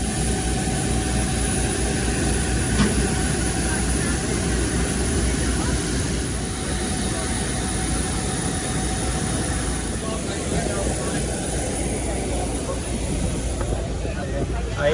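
A steady, loud roar of passenger jet engines inside the cabin fills the whole stretch, with a constant low rumble and faint voices murmuring underneath.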